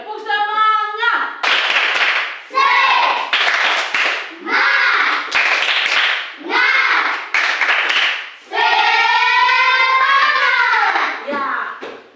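A group claps in a brisk rhythm, with bursts of clapping between stretches of chanted, sing-song voices that dominate most of the recording.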